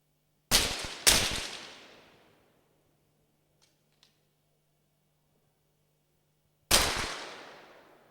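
Three sharp pistol shots at a 50m men's pistol event, two close together and a third several seconds later, each crisp and loud with a long decaying echo through a quiet range.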